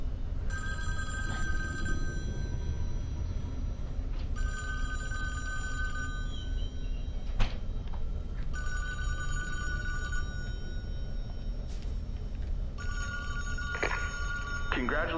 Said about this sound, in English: And there's a phone ringing.